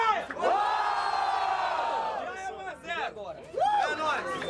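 Crowd at a Brazilian rap battle, Batalha do Atlântica, cheering and yelling loudly, sustained noise with whoops rising again near the end, mixed with a voice shouting over it.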